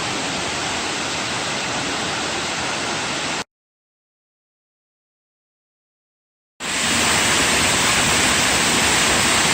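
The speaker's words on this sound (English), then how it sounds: "At the base of Yellowstone Falls." Yellowstone Falls, the tallest waterfall on Yellowstone Prong in Pisgah National Forest, roars as a loud, steady broadband rush from the base of the falls, cut by a few seconds of total silence in the middle before resuming.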